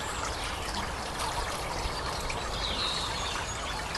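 Homebrewed Simcoe SMaSH beer pours into a glass, a steady soft trickling, fizzing stream, close and unbroken for several seconds with no talk.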